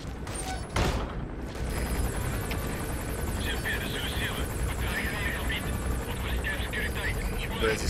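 A helicopter flies overhead in Metal Gear Solid V, a continuous whirring rotor drone holding steady for several seconds after one sharp bang near the start.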